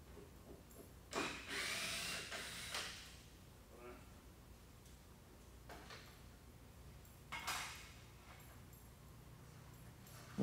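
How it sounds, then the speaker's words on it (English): A power tool whirs in a few short bursts as screws are backed out of a wall, close but fairly quiet, with brief pauses and faint clunks between runs and some talking in the background. "So we're going to pull those screws out of there."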